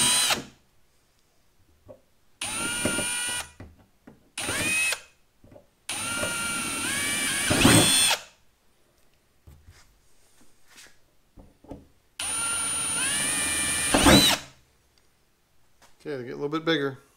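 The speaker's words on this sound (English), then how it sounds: "Alright, so got the holes drilled." A power drill boring holes in the trunk lid of a Saturn Sky for a rear wing, several loud whining bursts of a few seconds each separated by quiet pauses, close up.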